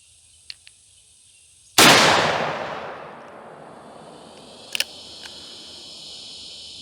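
A single loud gunshot from a .44 Magnum Ruger Super Blackhawk revolver with a 10.5 inch barrel, a sharp blast with a long fading tail, followed a few seconds later by faint clicks.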